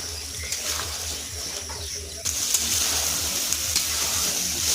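Meat fries in a pan with turmeric, chilli powder, cumin paste and a splash of water. A loud, continuous sizzle is broken by rhythmic stirring scrapes, and the frying surges louder partway through. No speech is heard.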